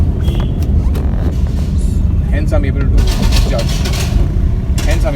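A Tata Nano car engine runs steadily in second gear during a smooth pickup, giving a continuous low rumble under a voice talking throughout.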